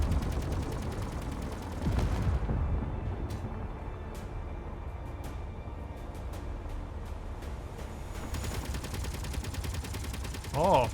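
A defensive turret in a video game fires at incoming rockets, producing a steady, dense stream of muffled shots beneath a constant rumbling game soundscape, with sharper clicks in between.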